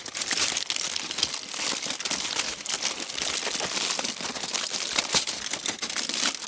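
Foil or paper being folded and crinkled by hand at a campsite to form a makeshift coffee container, a steady close crackling and crumpling that runs the whole time without talk.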